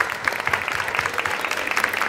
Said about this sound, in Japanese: ユーズ下の皆さんにもう一度大きな拍手をお願いします。